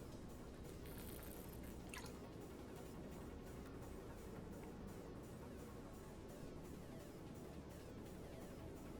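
Quiet, steady dripping and trickling water in a flood bypass area of a video game, a faint continuous wet ambience with scattered drips and a brief higher sweep near the start.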